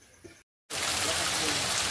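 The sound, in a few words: heavy rain falling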